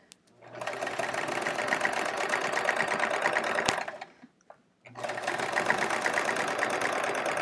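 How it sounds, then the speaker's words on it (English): A sewing machine doing free-motion quilting on a whole chevron quilt, stitching in a steady fast whir for about three seconds, pausing briefly, then running again, close and loud. "It's tough to move a whole quilt and stitch at the same time."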